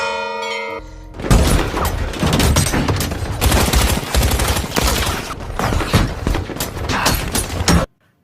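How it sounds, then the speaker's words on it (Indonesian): After a short ringing chime, heavy gunfire breaks out as Spectre henchmen in a James Bond film surround Bond's car and fire at it wildly: loud, dense, continuous volleys that stop abruptly. "Para anak buah Spectre mengepung mobil Bond dengan strategi katak dalam tempurung dan menembakinya secara membabi buta"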